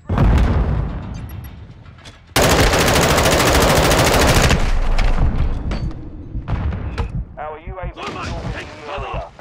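A stun grenade detonates during Call of Duty: Modern Warfare II open beta gameplay on PS5: a loud, dense burst of noise lasting about two seconds cuts through ongoing gunfire and explosions, followed by scattered shots and brief voices.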